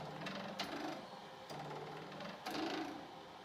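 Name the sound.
plucked ruler imitating water cooler buzz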